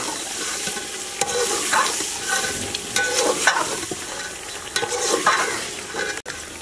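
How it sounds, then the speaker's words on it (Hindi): Fish frying in a pan for a fish soup, a steady broadband sizzle with repeated scraping stirs and occasional sharp clinks of a utensil against the pan, close and continuous. "अब फिश को अच्छे तरीके से भून लेंगे।"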